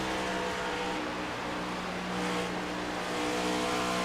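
Onboard engine roar from a race car during the Southern 500 in the 2025 Majors Series, a steady loud drone held through the gear change from fourth to fifth, continuous and close with no voices.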